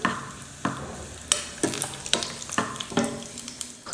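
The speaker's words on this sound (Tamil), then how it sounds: "அந்த முந்திரியை சேர்த்து நல்லா பொன்னிறமாக வறுத்து எடுத்துக்கிறேன்" Cashews frying in hot ghee in a small pan, with soft sizzling under repeated sharp scraping and stirring knocks of a spoon against the pan, steady and close, no talking.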